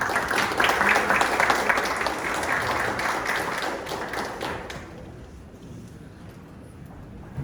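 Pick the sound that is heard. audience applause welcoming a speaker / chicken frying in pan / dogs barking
audience applause welcoming a speaker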